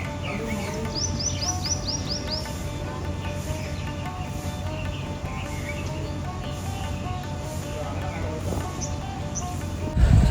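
Outdoor birdsong from birds including pigeons, with a short burst of chirps early on, then sparse scattered calls over a steady ambient hum, ending in a brief rustle.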